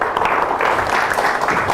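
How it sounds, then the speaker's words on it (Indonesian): Applause from a seated audience at a teaching seminar fills the room as a steady, dense wash of clapping with no voices on top, holding an even level throughout. "Terima kasih, tepuk tangan."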